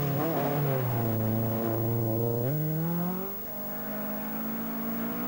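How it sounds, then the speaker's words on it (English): A 1982 Opel Ascona 400 rally car on a Welsh rally sprint stage revs hard and pulls away, its engine note climbing steadily through a gear, then settling into a loud sustained drone close by. "number 2, Jimmy McRae in the Opel Ascona 400."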